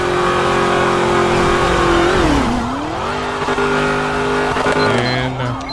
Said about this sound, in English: We hear you keep revving it.